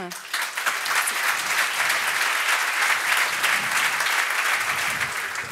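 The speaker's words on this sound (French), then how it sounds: "Je pense qu'on peut les applaudir." Warm applause from a conference audience thanking two speakers, a full steady wave of clapping that starts abruptly and holds at an even level.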